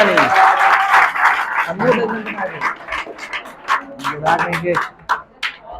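Students clap in a classroom, a short burst of applause mixed with voices and chatter, followed by scattered talk and a few isolated claps.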